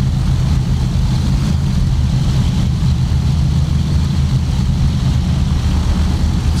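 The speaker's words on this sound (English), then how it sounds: "Thumpity, thumpity, thumpity of those big engines." Big piston engines of a Douglas World Cruiser in a flight simulator drone with a loud, steady, low rumbling hum that holds constant throughout with no pauses.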